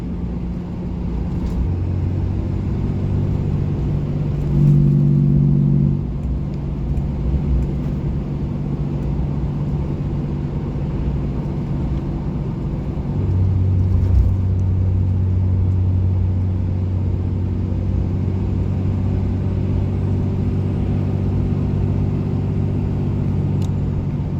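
Steady low engine rumble from a diesel truck with a Holset HE300VG turbo under load, with droning harmonics that rise and shift as it pulls and builds to 45 psi of boost; no talking.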